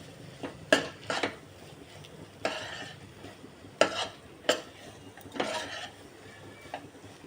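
A spoon stirs a coconut laddu mixture with peanuts in a metal pan, making several sharp scraping clinks in an irregular rhythm, close and fairly quiet, with soft gaps between strokes.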